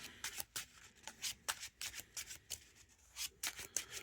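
Playing cards from a Marvel Champions deck being shuffled by hand, a quiet run of short riffling bursts in an uneven rhythm, heard close and alone.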